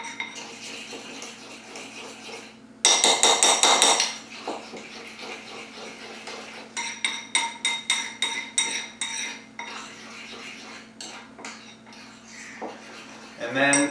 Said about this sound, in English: The powder is going to take a little bit to mix in, so you got to give it a little stir.